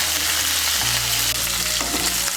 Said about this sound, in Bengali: ফুলকপি টুকরোগুলোকে মিশিয়ে নিয়ে ভেজে নেব।